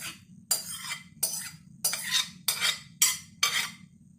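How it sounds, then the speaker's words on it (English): A spoon spreads canned corn and its juice across a dish for a shepherd's pie, making about six close, evenly spaced scraping strokes over a faint steady hum, with no talking. "Spoon, and we're just gonna spread it out."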